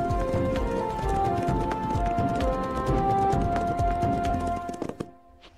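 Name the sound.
horses trotting in a cartoon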